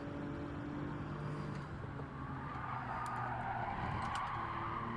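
Race car engine and tires in Gran Turismo 7 as the car brakes into a corner, a steady loud engine drone with a rising broadband tire hiss and scrub toward the end, continuous and close.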